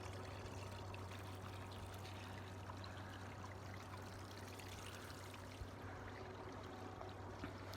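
A small garden water feature beside a little fish pond trickles steadily, a quiet continuous splashing wash with a low hum underneath and no voices.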